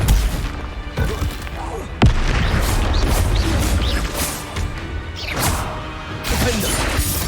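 Fiery spell blasts from Confringo in the Hogwarts Legacy wizarding video game, with sharp booming impacts near 0 s, 2 s and 5.2 s over a dense, continuous layer of combat effects and crackling debris.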